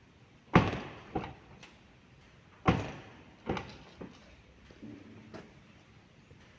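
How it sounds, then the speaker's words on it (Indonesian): Right middle car door handle being worked during a vehicle inspection: a sharp clack followed by several lighter latch clicks and thunks at irregular intervals, close and fairly loud, with no talking. "Periksa kerja handle pintu tengah bagian kanan."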